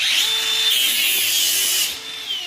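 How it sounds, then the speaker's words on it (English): A grinder shrieks in a continuous high whine while cutting through brass from an A-coil, close and loud, easing off briefly near the end. "Now, take our grinder."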